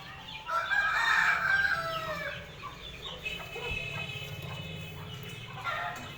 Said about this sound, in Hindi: ये बड़े पुराने वाइट जो मुर्ग हैं